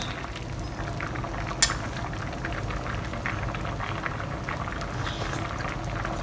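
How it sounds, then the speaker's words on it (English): Soup for Teochew fish porridge bubbling in a pot, a steady, even simmering rush throughout, close and moderately loud, with one sharp click early on. "When the soup is boiling, it's time to put the fish in."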